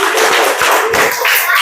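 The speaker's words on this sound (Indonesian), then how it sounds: "Tepuk tangan buat kalian semua." A school class applauding students, a short burst of dense, close hand clapping with no pause.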